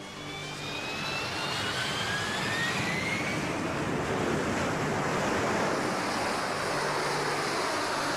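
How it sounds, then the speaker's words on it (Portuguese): A steady, roaring jet engine blast with a rising whine, loud and continuous, from a Harrier jet lifting off vertically nearby. "11 toneladas de impulso erguem as 7 toneladas do Harrier,"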